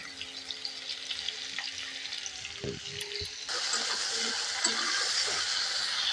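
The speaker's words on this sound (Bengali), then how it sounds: "আলুতে একটু লবণ দিয়ে ভেজে নেব।" Salted potatoes fry in oil in a kadai, a faint crackling sizzle with a few clunks of handling, then the sizzle jumps to a louder, brighter hiss about halfway through.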